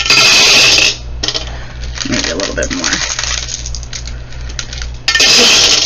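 A handful of clear glass marbles poured into a tray, a dense, loud clattering clink that rattles for several seconds before settling, with a voice speaking briefly over it.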